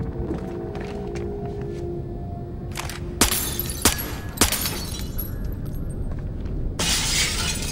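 Window glass breaks in the Splinter Cell Blacklist video game during a special mission at HQ, with several sharp crashing bursts and tinkling shards over a low ambient game background.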